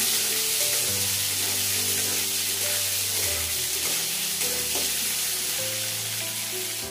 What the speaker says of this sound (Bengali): তেল গরম হয়ে গেছে, মাছটা ছেড়ে দেবো।